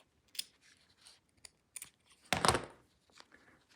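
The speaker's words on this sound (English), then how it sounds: "I might just trim this little piece off." Scissors snip a small piece of neoprene off a long-tail hair bow, giving a few faint close clicks and one louder, longer cut in an otherwise quiet room.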